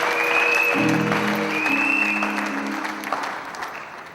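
A wedding congregation at a religious ceremony bursts into sustained applause to acclaim the Lord. The clapping is dense and steady with a few held musical tones underneath, and it fades slightly toward the end.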